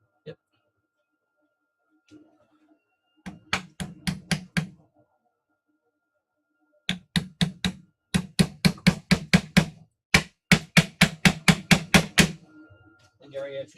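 Sharp metallic hammer strikes ring out in quick rhythmic runs of several blows each, close and loud, separated by short pauses, while working on a Ford Festiva 6-speed transmission with bearings.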